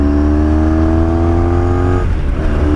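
1983 Honda V4 motorcycle riding, a steady engine drone with a strong low hum that shifts pitch slightly partway through as the rider changes throttle, heard up close over road noise.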